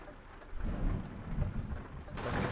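A thunderstorm in Euro Truck Simulator 2 at three in the morning: steady rain hiss, then a deep, loud thunder rumble swells in and rolls on, with the downpour brightening near the end.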